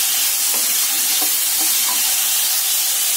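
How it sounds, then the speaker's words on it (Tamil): Chopped vegetables sautéing in a little oil for a Tirunelveli sodhi kuzhambu, a steady close sizzle with a few soft stirring scrapes and clinks spread through, no voices. "லைட்டாக 1-2 மினிட்ஸ் மட்டும் இருந்த எண்ணெயில் வதக்கினா போதும்"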